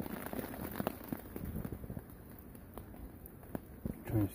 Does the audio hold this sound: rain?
yes